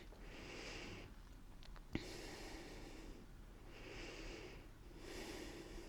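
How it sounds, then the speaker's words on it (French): Slow, deep yoga breaths drawn in and out through the nose, about three long airy cycles in a quiet room, close and soft, with no talking. "Une dernière respiration ici."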